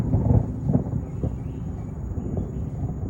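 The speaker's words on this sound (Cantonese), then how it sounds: "哇，響雷！" A low, heavy rumble of thunder rolls through, strongest at the start and fading into a distant grumble.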